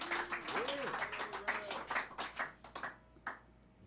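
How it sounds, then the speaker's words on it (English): A live roots and blues concert audience gives a round of applause, soft and somewhat distant, with a few voices calling out early on as the clapping thins into scattered claps. "Give him a big round of applause, will you?"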